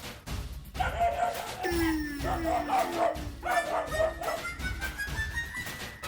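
A dog barks repeatedly in short bursts, close by inside a house, with high whimpering yips between the barks and some background clatter, in a TV comedy scene.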